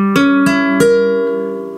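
Flamenco guitar in a bulerías style sounding an A Phrygian chord, three strummed attacks with the last ringing out and slowly decaying, played alone.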